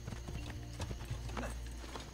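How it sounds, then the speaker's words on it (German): Hooves clip-clop steadily with a brief horse whinny over a low background hum, from the video game Assassin's Creed Brotherhood, moderately loud. "Ruf mein Pferd, was da hinten ist."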